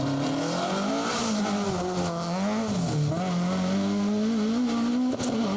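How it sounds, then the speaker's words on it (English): Class 14 Ford Escort rally car at full effort on a stage, the engine loud and near, wavering in pitch through gear changes and corners, with hints of tyre noise. "Mulligan were Damien Gallagher and Mac Walsh in another Class 14 Escort."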